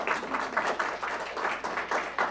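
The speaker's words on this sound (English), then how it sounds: "Yeah, it's okay to applaud." An audience at a school district governing board meeting applauding as student names are read, a short burst of moderate clapping from a room full of people.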